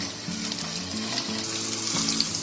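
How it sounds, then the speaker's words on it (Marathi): Mung bean (matki) cutlets dropped into hot oil in a pan, giving a loud, continuous close-up sizzle and crackle with a low hum underneath. "तेल तापलंय, त्याच्यामध्ये आता टाकते."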